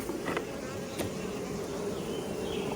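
Honey bees droning steadily from an opened hive box in a bee yard, a dense continuous buzz with a few closer passes, moderately loud and unbroken throughout.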